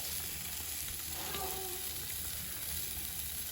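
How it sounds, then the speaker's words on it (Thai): Pork grilling for a Thai barbecue meal, with burgers also on the grill, gives a steady, close, full-bodied sizzle and hiss that runs through the whole stretch without any talk. "ปิ้งย่าง"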